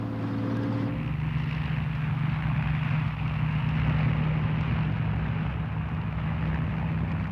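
A propeller aircraft flies by steadily and loudly, its engine drone holding a constant low hum with a buzzing layer throughout, heard alone without any talk.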